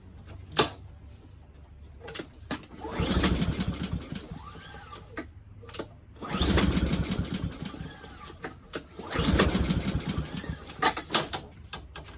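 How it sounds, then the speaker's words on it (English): Pull-start attempts on a Toro Recycler lawn mower with a Honda GCV160 engine, three rough bursts of cranking as the recoil cord is yanked, close, with the engine failing to catch and faint clicks between pulls. "let's see if this starts. We want this to start on the first pull."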